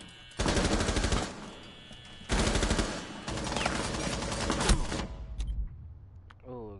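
Automatic rifle fire through walls in Rainbow Six Siege: two loud, rapid bursts of shots, the second longer and trailing into scattered single shots before a brief voice.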